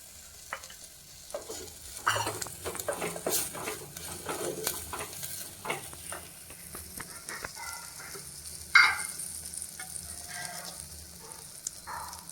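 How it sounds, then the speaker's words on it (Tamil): Banana flower sautéing in a pan for Tamil vaazhai poo kuzhambu, a steady close sizzle with frequent clicks and scrapes of stirring against the pan and a sharp knock near the end, no voices. "வாழைப்பூ நல்லா வதங்கியாச்சு அஞ்சு நிமிஷம் வதக்கியாச்சு"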